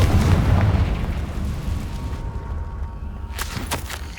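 A Confringo blasting spell explodes in the Hogwarts Legacy video game, a loud, deep boom that fades into a rumbling tail, followed by a few short sharp crackles.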